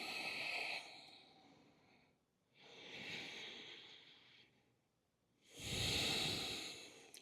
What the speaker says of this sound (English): Nice and slow breathing.